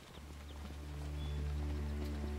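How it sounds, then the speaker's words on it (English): A large horse's hooves clip-clop at a steady walking rhythm in Assassin's Creed Brotherhood, moderately close and growing slightly louder over a low ambient hum. "That's a big horse."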